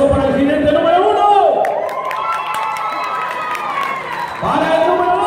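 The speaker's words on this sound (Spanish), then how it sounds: "aplauso para el jinete número uno." Crowd cheering and applauding for a young rider at a children's calf-riding contest in a bullring, a loud, sustained burst of clapping and shouts with a voice over a public address system.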